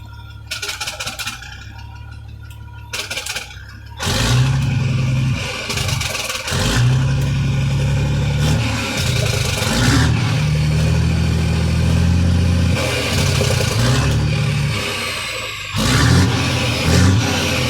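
Jake brake on a 1987 Kenworth T600 truck engine with a big air leak, the engine revving and dropping in repeated bursts of deep rattling blat with pauses between, loud and close with no talking.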